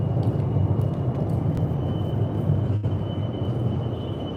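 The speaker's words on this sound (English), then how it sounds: "I can hear a train above me." A Metra commuter train rolls overhead, heard from a tunnel below as a steady, loud low rumble with a faint high whine, continuous throughout with no voices.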